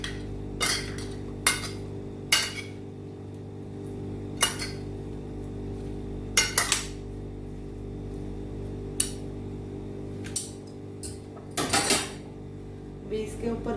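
A spoon mixing fruit salad in a bowl gives scattered, sharp clinks and scrapes against the dish, spaced every second or two with quiet gaps between, close and moderately loud with no talking.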